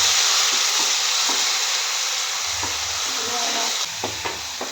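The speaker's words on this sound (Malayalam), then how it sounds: "സവാളയുടെ പച്ചമണം മാറുന്നത് വരെ നമുക്ക് വഴറ്റി കൊടുക്കാം." Onion paste sautéing in a pan for a clam meat curry, with a steady loud sizzle and frying hiss throughout and a few soft stirring scrapes near the end.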